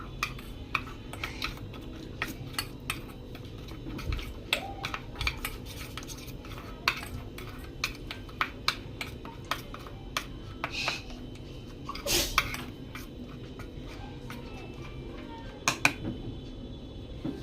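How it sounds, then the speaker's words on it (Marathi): A spoon clinks and scrapes against a bowl while marinade ingredients and salt are mixed for fried mandeli (golden anchovy), with rapid light clicks repeating steadily and close by, no talking. "आता हे सगळं मिक्स करून घेऊ"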